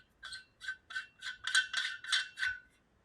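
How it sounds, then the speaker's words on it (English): A muzzle device with shims is threaded onto the barrel of an AR9 pistol upper receiver, giving a run of about eight quick, close ratcheting clicks in an even rhythm. "I'm just gonna place the shims and screw on my muzzle device."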